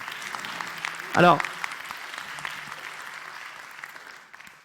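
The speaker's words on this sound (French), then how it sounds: "Vous pouvez l'applaudir bien fort." A French-speaking audience claps at a talk, fairly quiet and steady, while one person says a short word over it and the applause fades toward the end.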